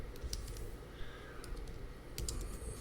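Quick light keystrokes on a computer keyboard entering a number, a brief run of soft close taps over a steady low background hum.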